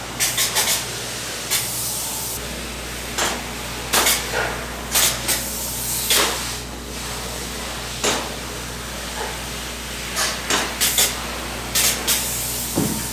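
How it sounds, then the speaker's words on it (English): Repeated short bursts of forceful spraying hiss from spray foam insulation being sprayed in a garage, some clustered, over a steady low machine drone, close and loud. "in the garage right now spraying foam"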